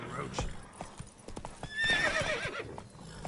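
Roach, the horse in The Witcher 3, clip-clops at a gallop with a loud close neigh in the middle, while a voice talks over the hoofbeats.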